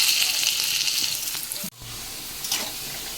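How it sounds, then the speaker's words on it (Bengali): Potatoes frying in hot oil left from frying fish make a continuous close sizzle, broken by a brief sharp dip partway through before the hiss resumes. "এই তেলে আমরা কি করব, আলুটাকেও লাল করে ভেজে নেব।"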